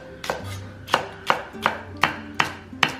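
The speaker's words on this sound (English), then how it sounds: "And then we also need 3 scallions or green onions chopped up" Scallions being chopped on a cutting board, with a steady series of about seven sharp knife strikes roughly half a second apart, close and clear, no voices.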